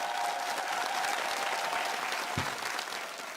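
Audience applause welcoming a traditional Korean music stage performance, a steady dense clapping wash from a crowd, tapering slightly toward the end.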